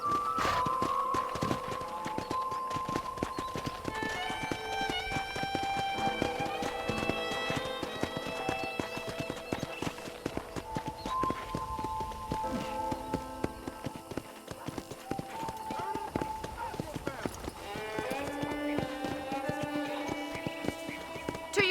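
In the video game Red Dead Redemption, a horse's rapid hoofbeats clip-clop steadily at a trot, fairly quiet, while tonal music plays over them throughout.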